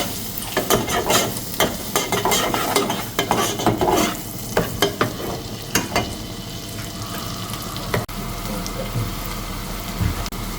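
Onion, ginger, garlic and chilli sauté in a hot pan, a loud, steady sizzle punctuated by repeated scraping knocks of a spatula stirring, close up, with a low hum underneath in the final seconds.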